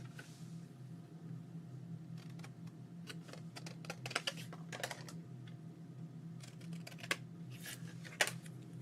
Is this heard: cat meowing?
no